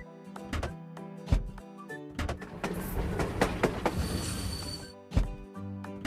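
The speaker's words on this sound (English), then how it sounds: "The train has arrived." Toy train set arriving at a play station, with rhythmic clicking and rattling of small wheels and plastic parts over a busy mechanical whir, moderately quiet and without talk.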